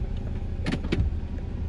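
A Nissan reversing with broken subframe bushings, low engine rumble under two quick clunking knocks from the front end, close and brief.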